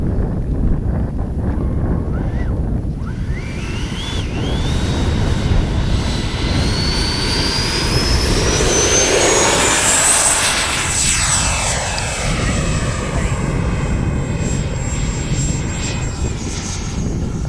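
A Freewing 80mm F-5 Tiger II RC jet flies past with a loud, continuous electric ducted-fan whine that rises and sweeps in pitch as it nears and recedes, with wind buffeting the microphone.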